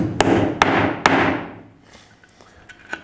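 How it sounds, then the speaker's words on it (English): Three sharp hammer blows strike metal in steady succession, driving a key-locking threaded insert, each ringing out briefly, followed by a few faint taps and rustles. "then you hammer the first part in"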